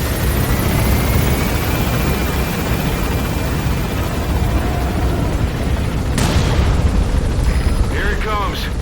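Helicopter flying in the video game Metal Gear Solid V: The Phantom Pain, a loud, steady rotor and engine rumble filling the whole stretch, with a sharp burst and some game effects breaking in near the end.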